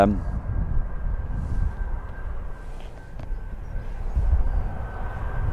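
A military aircraft taxies at an airfield, its engine a steady, moderately distant roar with a faint high whine running throughout and a slight swell toward the end.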